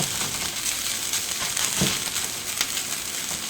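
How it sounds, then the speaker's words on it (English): Shredded potatoes for diner-style hash browns hit hot oil and spread into an even layer, setting off a loud, dense crackling sizzle with brief sharper pops, close up and without speech. "And now I'm going to go ahead and put in my potatoes into my oil, just like this."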